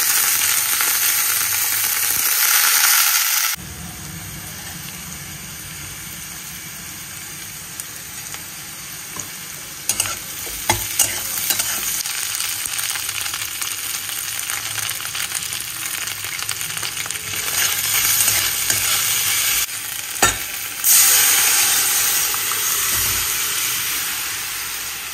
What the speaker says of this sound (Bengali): তেলটা ভালো করে গরম হয়ে গেছে, জিরে দিয়ে দিলাম, ফোড়ন, সবজিগুলো একটু ভেজে নিয়ে